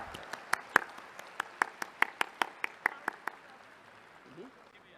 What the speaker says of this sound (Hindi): सुनने का मन है तो एक बार तालियां, घनघोर तालियां बजाकर आप।